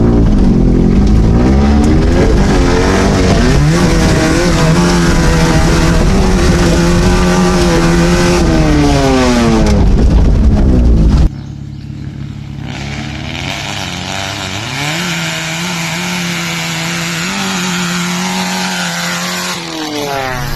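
A lifted Honda Civic's engine revs hard at an off-road vehicle park, a loud, close, continuous roar rising and falling in pitch, then settling to a somewhat quieter steady drone partway through.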